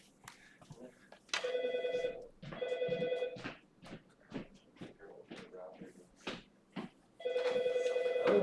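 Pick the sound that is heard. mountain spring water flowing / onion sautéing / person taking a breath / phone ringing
phone ringing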